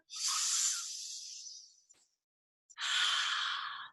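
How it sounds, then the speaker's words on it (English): Slow, deep breathing in a guided group meditation for peace: a long airy exhale that fades out, a brief silence, then a full, close inhale, with no talking. "Peaceful breaths in. And peaceful breaths out."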